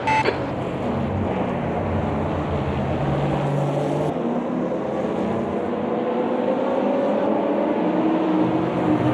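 A race car in Automobilista 2 drones loudly and steadily, its engine pitch sweeping as another car approaches and passes close by.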